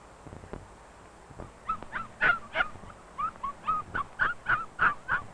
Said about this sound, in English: the puppies want to play in the box where they sleep